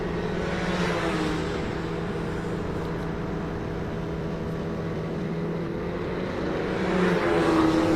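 Autonomous race cars lapping a 1.5-mile speedway at CES 2025, a steady distant engine drone that swells as a car approaches near the end.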